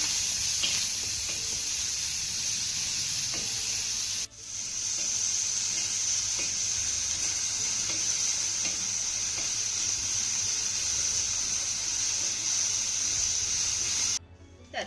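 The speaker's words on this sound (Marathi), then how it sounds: "यामध्ये घालूया त्यानंतर यावर आपल्याला अगदी थोडंसं तेल घालायचं आहे त्यानंतर हा कांदा आपल्याला छान असा सोनेरी रंगावरती भाजून घ्यायचा आहे" Sliced onions fry in a little oil on a tawa, giving a steady, fairly quiet hiss and sizzle that runs on evenly, briefly cut by a short gap near the start and a pause near the end.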